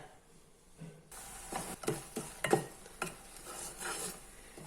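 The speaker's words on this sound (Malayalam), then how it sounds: "ശർക്കര ഇട്ട് നന്നായിട്ട് വരട്ടണം" A cup of jaggery being stirred as it melts in a pan, with soft sizzling and several distinct scraping and clinking spoon strokes against the pan after a quiet start, close and faint.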